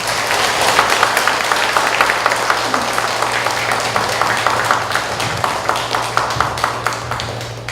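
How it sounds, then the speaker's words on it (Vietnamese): Audience at an international Buddhist education conference in Vietnam bursts into sustained applause, dense rapid clapping filling the hall at steady loudness with a low hum underneath and no speech. "Chúng ta cho một tràng pháo tay."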